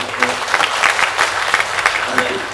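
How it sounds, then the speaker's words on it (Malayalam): An audience at a talk breaks into loud, continuous clapping, a close, full burst of applause with scattered sharper claps standing out throughout. "അപ്പോൾ ഇഷ്ടപ്പെട്ടാൽ കൈയടിച്ചേക്കണേ"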